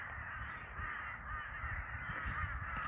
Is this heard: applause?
no